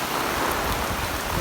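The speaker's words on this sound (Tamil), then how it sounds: "தொடர்ந்து மழையாக தான் இருக்குது" Heavy rain pours during a flood in Jaffna, a dense, even hiss of falling water with no pauses, loud and close.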